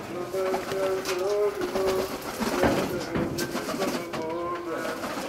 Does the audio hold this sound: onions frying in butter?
no